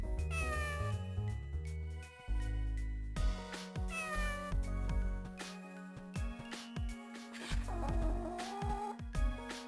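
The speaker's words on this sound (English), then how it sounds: "I like how they give the cat different noises." A cat in Phantasy Star video game meows repeatedly as it is petted, each clear meow in a different tone, over soft game music.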